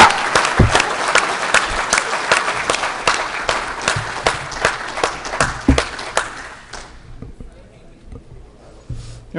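Sustained crowd applause at a legislative conference event: loud, dense clapping with some sharp individual claps and cheering voices, gradually thinning out and fading toward the end.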